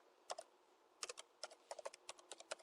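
Quick bursts of keystrokes on a computer keyboard, tapped in short irregular clusters with brief pauses, close and fairly quiet, no talking.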